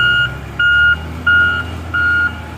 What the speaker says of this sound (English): The gentleman has arrived in his massive John Deere loader.